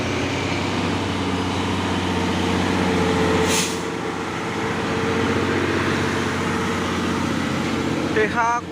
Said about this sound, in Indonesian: ini juga ada satu nih truk trailer Hino 500